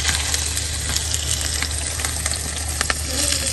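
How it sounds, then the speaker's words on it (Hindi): Curry leaves and spices sizzle and crackle steadily in hot oil for a tempering, with sharp little pops scattered through the hiss, close by and with no talking. "जैसे ही कड़क कड़क की आवाज़ें आना शुरू हो फौरन आपने चूल्हा कर देना है बंद"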